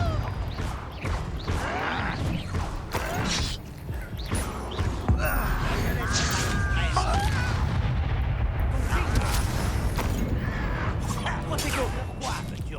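Confringo blasting-spell explosions from the Hogwarts Legacy video game, a dense run of loud booming blasts and crashes packed together, with spoken voices over them.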